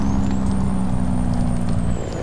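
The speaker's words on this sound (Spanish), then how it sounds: "Suena bonito ese freno de motor." Engine brake of a Chevrolet Kodiak truck in American Truck Simulator, a loud steady low rumbling drone with a constant hum held throughout, no break in the sound.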